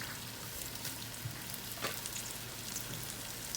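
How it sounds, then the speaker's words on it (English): Garlic and onions sautéing in a pan for a chilli and tomato sauce, a faint, even sizzle with soft crackles and occasional light stirring, quiet and continuous. "Cooking garlic and onions makes you hungry. I'm going to saute these probably about 3 or 4 minutes."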